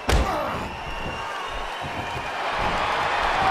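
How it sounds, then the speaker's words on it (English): A dense arena crowd roar from the WWE '12 video game at a SummerSlam championship match, a broad steady wash of cheering with a sharp slam or thud right at the start, loud and continuous throughout. "Would you listen to this crowd show their appreciation for these amazing competitors?"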